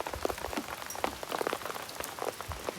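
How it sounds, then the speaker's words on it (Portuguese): Steady rain falls on a riverside camping spot, drops patter densely and irregularly on nearby surfaces in a continuous close wash with no voices. "Estamos aqui debaixo de chuva."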